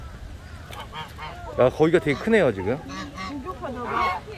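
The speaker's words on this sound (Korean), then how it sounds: "여기는 또 거위가 있는 곳입니다" Geese honking loudly at a goose enclosure on Nami Island in Gapyeong, a burst of several harsh nasal honks in the middle, with people talking over crowd noise.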